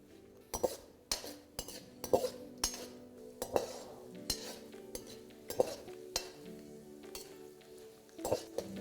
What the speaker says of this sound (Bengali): তারপর এটাকে মিডিয়াম টু লো ফ্লেমে ভালো করে একবার ভেজে নেবো।